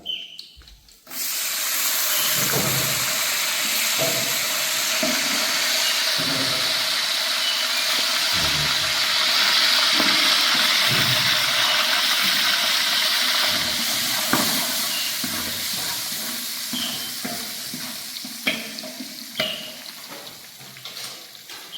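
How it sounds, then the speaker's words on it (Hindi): Tadka tempering hits dal being cooked as prasad on a chulha at Shri Ram Ghat. A loud sizzling hiss bursts up after a brief pause, mixed with clinks and stirring, then gradually softens. "देखिए दाल में तड़का लग रहा है।"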